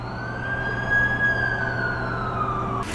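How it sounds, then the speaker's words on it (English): An ambulance siren in The Amazing Spider-Man 2 video game wails with a loud, sustained tone that slowly rises and falls, heard alone without speech. "That's the ambulance I called."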